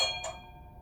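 A single bell chime from an LGB Weimar model trolley with a Zimo sound decoder, struck near the start and ringing out in a short, fading tone.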